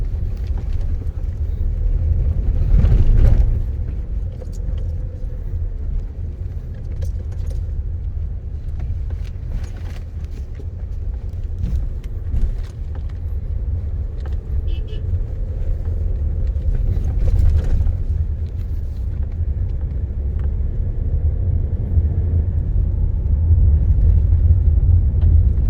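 Tata Safari SUV being driven, a steady low road and engine rumble with tyre noise heard from inside the cabin, continuous and even with slight swells, no talk.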